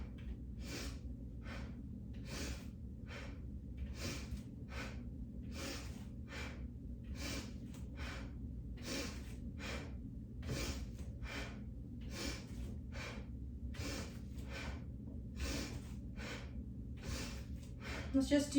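Forceful yoga breaths, rapid sharp exhalations repeated in a steady rhythm about twice a second over a low background drone, close and loud with no talking.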